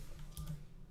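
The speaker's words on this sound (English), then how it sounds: "So I'm typing 5000" A few faint, sparse keystrokes on a computer keyboard while entering a value in an Unreal Engine 4 lesson, soft clicks spaced apart in a quiet room.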